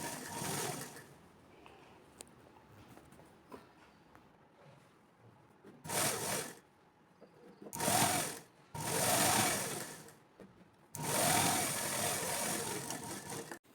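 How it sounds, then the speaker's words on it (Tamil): A sewing machine stitches a folded lining fabric seam, running in several loud bursts of rapid mechanical whirring separated by quiet pauses, close up with no talking. "அதே 1/2 இன்ச் கேப்பில் லைனிங் துணி உள்ளே மடித்து இப்போ தைச்சிட்டு வந்துடலாம்."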